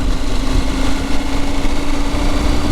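A KTM 890 Adventure motorcycle engine with its stock OEM exhaust runs steadily at idle, a close, continuous mechanical drone with a slight clatter and no talking.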